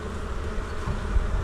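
Faint, continuous low buzzing of bees at a beehive on a warm day, steady and close with a little background rumble.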